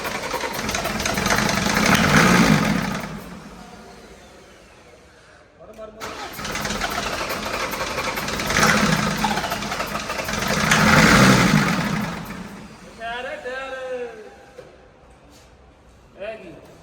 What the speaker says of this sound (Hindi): There is a technical issue कि जब हम इंजन को स्टार्ट करें तो वो पूरी तरह स्टार्ट नहीं हो पा रहा।